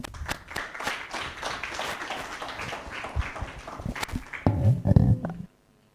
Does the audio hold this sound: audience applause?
yes